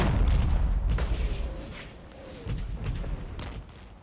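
Booming rocket launcher salvos in the war game Regiments, several heavy blasts and rumbles spread across a few seconds with a dense low-end roar, no talk over them.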